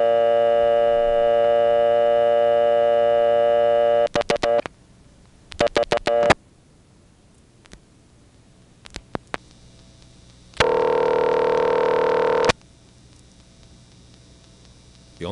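A 1970s coin payphone line gives a steady dial tone that breaks off into clusters of sharp clicks as numbers are flashed with the hook switch. The tone briefly returns, then more scattered clicks follow.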